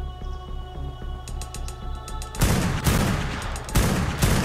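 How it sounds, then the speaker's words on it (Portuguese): Rapid gunfire in an ARK-style survival video game during a fight with Reapers, bursts of loud shots starting midway over a mechanical, ratcheting background, with no talk. "Vou dar muito tiro, velho."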